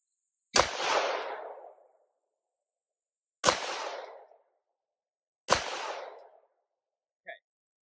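Three sharp rifle shots from 147-grain subsonic reloads, each a loud crack followed by a decaying rumble about two and a half seconds apart, with a brief faint clink at the end.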